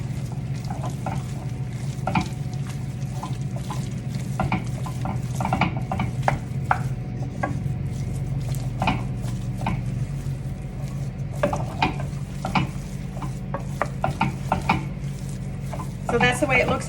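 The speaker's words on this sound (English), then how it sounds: "you have to keep stirring until it does" Choux dough for gougères stirred hard in a pot, giving a steady scraping, slapping rhythm of spoon against metal with some sizzling, close and continuous throughout.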